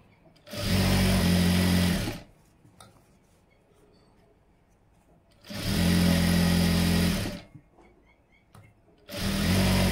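A sewing machine stitching fabric runs in loud, close steady bursts of about one and a half seconds each, separated by quiet pauses, a whirring motor hum with rapid needle chatter.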